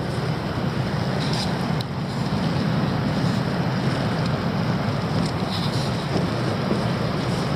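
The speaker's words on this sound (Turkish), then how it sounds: "İçinde ben olmasam çadırı atacak rüzgar" Strong storm wind buffets a tent in a forest, a constant close roar of rushing air with occasional gusts and rustling.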